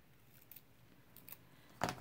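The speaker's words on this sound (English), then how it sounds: "I'm going to go ahead and take some little leaves that I have in my stash, um, and I'm going to cut those and get those ready" Scissors snip fake flower leaves: a couple of faint quiet clicks, then one sharper, louder cut near the end, close up in an otherwise quiet room.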